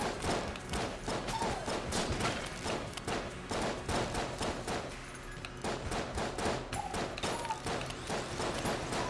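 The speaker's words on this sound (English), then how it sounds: "I forgot that dodging sends out bullets too" Rapid bursts of gunfire crackle steadily in Enter the Gungeon as bullets spray out during dodge rolls, a dense, rhythmic run of close shots repeating across the whole stretch, with a faint voice underneath.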